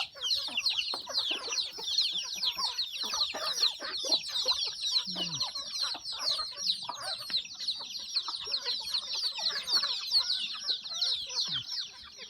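Chickens cluck and call almost without pause around a village home, a dense, close barnyard chatter with a short low squawk partway through. Ducks may be among them but cannot be picked out.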